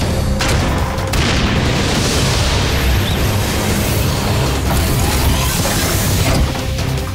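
Cartoon laser and missile attack explosions boom continuously in a loud, dense rumble with crashing impacts throughout, no pauses.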